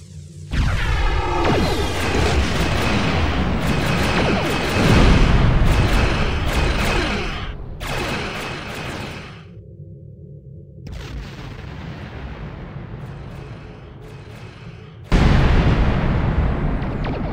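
Space battle in which a ship pursued by Orion Raiders takes heavy fire: loud, continuous booming explosions and weapons blasts, with repeated bursts that drop briefly and then surge back hard near the end, no talk.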